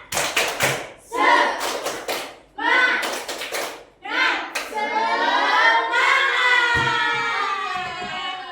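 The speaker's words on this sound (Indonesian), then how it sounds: "Boleh tepuk semangat dulu?" A class performs a rhythmic spirit clap, with several sharp bursts of hand claps in a patterned beat mixed with chanting children's voices, ending in a sustained shouted cheer.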